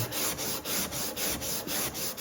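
Rhythmic hand sanding and scraping strokes on a wooden guitar neck, close and steady, about nine even back-and-forth passes with a dry rasping texture, no voices.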